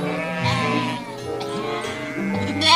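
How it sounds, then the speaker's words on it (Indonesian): A toy sheep gives a loud, drawn-out bleat that wavers in pitch and carries on for nearly three seconds, heard up close with no talking over it. "Ternyata ini domba."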